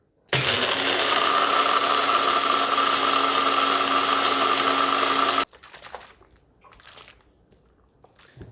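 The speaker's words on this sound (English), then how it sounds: "And then blend through." A blender whirs loudly for about five seconds, blending cashews, water and vinegar into a sauce, a steady high-pitched motor whine with grinding texture, then cuts off abruptly to quiet kitchen clatter.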